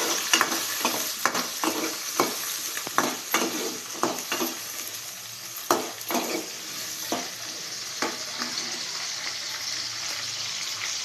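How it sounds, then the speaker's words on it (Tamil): Ginger, garlic and dried red chillies sautéing in a hot pan, constant oil sizzle broken by repeated scraping strokes of a spoon stirring in uneven rhythm, close and moderately loud. "கலர் சேஞ்ச் ஆகிற வரைக்கும் நல்லா வதக்கி விட்டுக்கலாம்."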